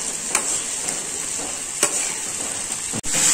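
Okra frying in a pan with oil and turmeric, a steady close sizzle broken by a few sharp scrapes of stirring, with no talk.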